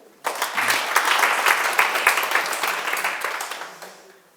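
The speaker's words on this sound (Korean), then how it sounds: "박수 한번 치세요." A live audience at a Korean-language lecture breaks into applause, a dense wash of many hands clapping that starts abruptly, holds steady and loud for about four seconds, then thins and fades out.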